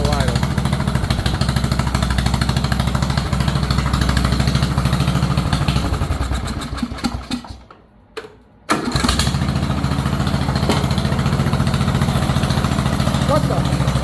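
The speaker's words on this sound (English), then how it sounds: "Look at that low idle." A Bolens 38-inch riding mower engine runs at a steady low idle, loud and close, then sputters and nearly dies for about a second before catching again and settling back into its even idle.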